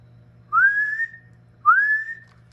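A person whistles twice into a ham radio transmitter for an audio test. Each note is a clear, rising, sustained tone, and the two are separated by a short pause over a low steady hum.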